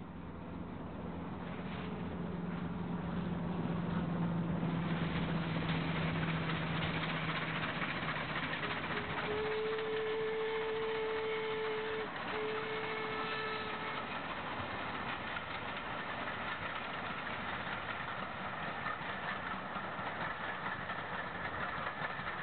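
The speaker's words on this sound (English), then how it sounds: "The engine is seen near Ferry Meadows on the Nen Valley Railway." A Hunslet-built War Department locomotive runs on the Nen Valley Railway near Ferry Meadows. A steady, moderately loud rumble and hiss carry on throughout, with a brief tonal whine partway through.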